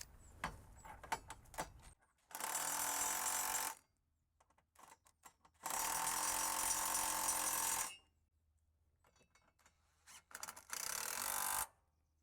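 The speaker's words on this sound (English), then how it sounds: "I'm gonna tighten it just a bit more with a breaker bar" A ratchet wrench tightens a 17 mm bolt on the AC compressor bracket of a Honda Ridgeline, with three long bursts of rapid, close clicking separated by quieter handling and tool taps.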